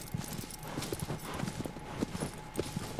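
Horse hooves clip-clop at a steady trotting rhythm in Shadow of the Colossus, moderately faint and even, with light background ambience.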